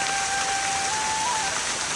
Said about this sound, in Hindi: और बारिश फिर आने लग गया,